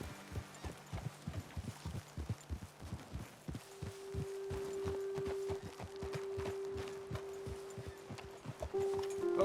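Horses from Red Dead Redemption 2 clip-clopping in a steady rhythm of close, distinct hoofbeats, followed by a sustained low tone and continued hoof thuds under a growing ambient hum.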